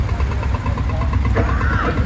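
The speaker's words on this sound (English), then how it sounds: "A lovely green field marshal with that very iconic exhaust sound as it goes out to the arena." Green 1969 Field Marshall tractor at a steam and county show, its single-cylinder exhaust thumping in a steady, rapid low beat as it heads out to the arena, loud and close amid outdoor crowd noise.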